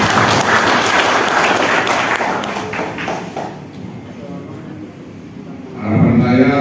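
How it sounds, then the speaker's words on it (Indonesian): A crowd at a regional regulation outreach gathering gives loud, dense applause that fades over a few seconds, followed by a short quieter stretch before a voice comes in near the end. "Tepuk tangan untuk kita semua."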